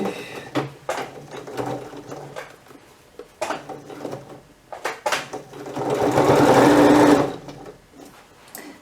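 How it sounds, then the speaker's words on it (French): A sewing machine stitches leather and plastic in short mechanical bursts of rapid needle clatter, then runs longer and louder near the end before stopping. "on peut coudre du cuir et du plastique très facilement à la machine à coudre"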